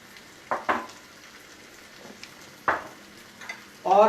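Crumbled paneer tipped into a pan of white sauce and stirred, giving a few soft wet scrapes and sizzles in separate bursts, with a louder stirring scrape at the end, near and alone.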